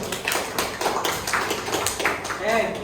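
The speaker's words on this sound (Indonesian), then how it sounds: "silakan dulu tepuk tangan dulu semua" A class of students claps their hands together in a lively, uneven patter of overlapping claps, close and fairly loud, with voices talking under it.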